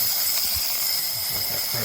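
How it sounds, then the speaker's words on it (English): An Ihomekee 3.5 bar espresso and cappuccino machine vents steam through its wand in a steady, close hiss that runs unbroken from start to finish, with faint low knocks beneath. "I'm going to turn the knob over here now to all the way back to release the steam, and see it's doing steam down there"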